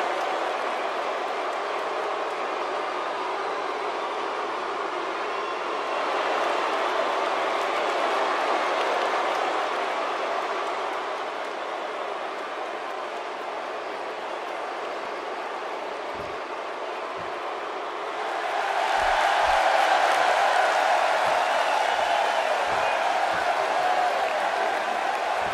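A large arena crowd cheering in the video game WWE 2K18, a continuous loud roar that swells twice and stays dense throughout.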